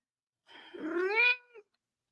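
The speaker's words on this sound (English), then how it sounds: "That cat and her attitude." A cat gives a single drawn-out, rising-and-falling meow, close and clear, lasting about a second against a quiet room.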